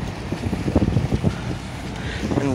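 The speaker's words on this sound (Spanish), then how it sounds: "que ahí viene un barco" A boat passes near a beach, a low rumbling wash mixed with heavy wind buffeting close to the microphone, steady over a few seconds with no clear speech.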